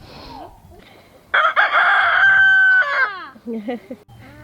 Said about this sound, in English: having their crows on the farm